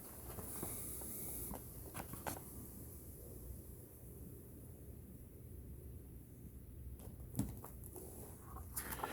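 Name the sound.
heavy rain pouring outside an open window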